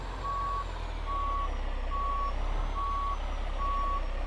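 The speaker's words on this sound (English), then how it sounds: "Drive the truck backwards." An International LT fleet truck backing up gives steady, evenly spaced reversing beeps, about five in a row, over a constant loud diesel idle rumble, with no talk.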